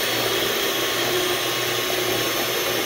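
An electric stand mixer beats a homemade ice cream mixture, its motor giving a steady, close whirring drone that holds without break throughout.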